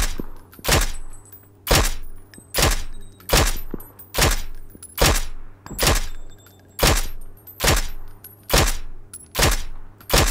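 Gunfire in the video game PUBG, a series of about eleven evenly spaced loud single shots, each a sharp crack with a short decay, alone with no talk.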